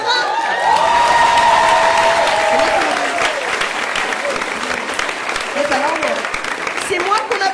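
A comedy show audience applauds and cheers loudly and steadily, with a voice talking and laughing over the crowd noise.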